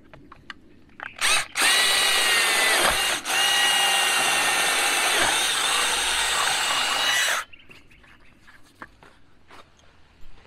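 A hammer drill bores steadily for about six seconds, a loud, close, grinding whir with a brief dip partway through, followed by quieter handling noises and small knocks.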